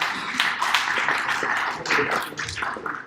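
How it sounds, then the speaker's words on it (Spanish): A small group in a Java Enterprise Edition hands-on lab session claps for a fellow participant, a short patter of scattered hand claps that stays close and moderately loud throughout. "aplausos para su compañero"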